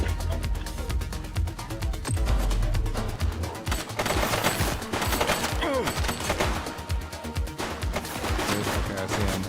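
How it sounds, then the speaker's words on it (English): Gunfire in the police video game The Precinct, rapid bursts of shots cracking over a dense, loud mix of game music and effects, with a voice talking over parts of it. "He's shooting!"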